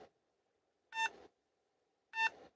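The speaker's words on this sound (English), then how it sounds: "Oh, stupid beeping sound." Two separate electronic beeps from a Viglen desktop computer at startup, each a short bright tone burst roughly a second apart, heard clearly over a faint steady hum with no talking.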